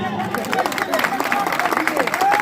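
Audience applause for the singer at a kirtan, steady clapping mixed with crowd murmur and a voice speaking over it.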